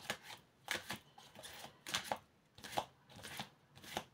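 Tarot-style cards being handled and drawn for a card reading: a series of crisp snaps and riffling flicks in irregular bursts, close by and fairly quiet, with no talking.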